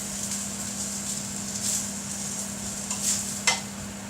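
Sausages frying in a pan, a quiet even sizzle with a steady low hum underneath and a couple of faint clicks near the end.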